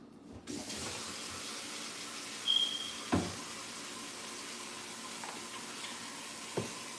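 Running water from a kitchen tap as hands are washed before seasoning shrimp for brown stew, a steady broadband wash with a couple of brief knocks, moderately close and without talk.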